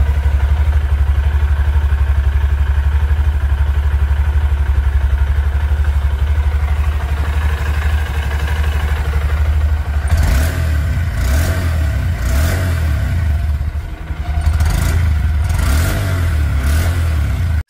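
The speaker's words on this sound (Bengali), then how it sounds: "সবার আগে আপনারা এর ইঞ্জিন এবং এক্সস্ট সাউন্ডকে একবার চেক আউট করে নিন।" A 2025 Honda SP 125 motorcycle with a new exhaust idles with a steady low thrum, then is revved in several sharp bursts that rise and fall before settling back to idle, loud and close with no talking.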